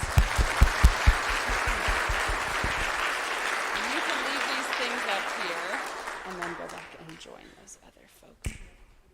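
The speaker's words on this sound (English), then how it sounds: "So let's give her a round of applause." Audience applause at a children's community choir spring concert, starting with loud close claps that merge into a full round of clapping and then fade out, with voices heard beneath it and afterward.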